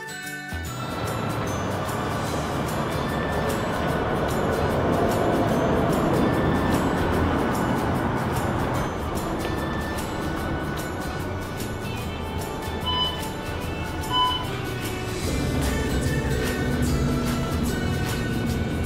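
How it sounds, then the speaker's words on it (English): A San Francisco trolley ride: steady rumble of the moving car with faint metallic jingles and clanks, a continuous busy ride ambience with no talking. "the first thing we have to try, riding the trolley"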